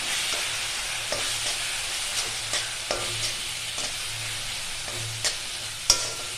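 Ground coconut is stirred into tomato chutney in a pan, a steady hissing sizzle marked by regular scraping strokes of a spoon roughly every half second, with a sharper clack near the end.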